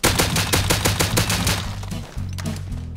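Rapid automatic gunfire in the survival game Rust aimed at a bear, a loud burst of evenly spaced shots for about two seconds, followed by a lower rumble and a few final cracks.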